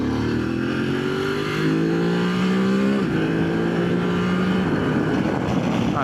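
A Voge DS900X motorcycle accelerates hard, its engine note climbing steadily, dropping briefly with each quick gear change from the quickshifter and rising again, loud and close with wind rush throughout.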